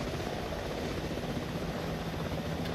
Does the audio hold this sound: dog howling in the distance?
no